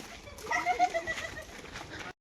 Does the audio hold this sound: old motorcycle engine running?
no